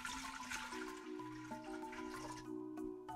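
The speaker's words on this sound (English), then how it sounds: "We're gonna start by adding some water into the pot." Water pours steadily into a cooking pot for refried beans, a close, continuous splashing stream with a rising tonal fill as the level climbs.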